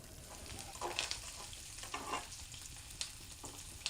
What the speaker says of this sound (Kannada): ಕರಿಬೇವು ಸಾಸಿವೆ ಜೀರಿಗೆ ಹಾಕಿ ಹ್ಞೂ ಹಾಕ್ದೆ ರೀ ಇರು ಅದೊಂದು ಸ್ವಲ್ಪ ಚಟಪಟ ಅನ್ಬೇಕು